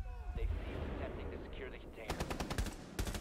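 Gunfire in the video game Rainbow Six Siege, heard as a rapid burst of sharp shots near the end over a busy game mix, with talk nearby.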